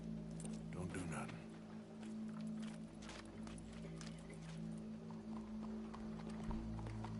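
Horse hooves clip-clopping in Red Dead Redemption 2, a steady rhythm of steps heard beneath game music and ambience, with voices talking over it.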